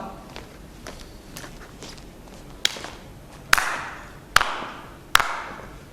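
On stage during a Hindi drama festival play, one performer gives slow, deliberate handclaps, four loud sharp ones spaced about a second apart, after softer taps and footstep-like knocks in a reverberant hall.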